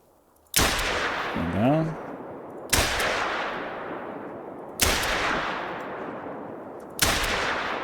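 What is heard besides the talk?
pistol shots at shooting range, video game theHunter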